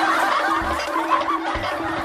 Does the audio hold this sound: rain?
no